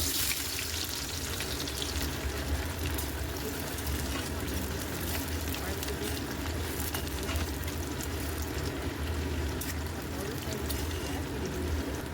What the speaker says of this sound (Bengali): গরম তেলে একটু হলুদ অ্যাড করে এক এক করে আলুগুলো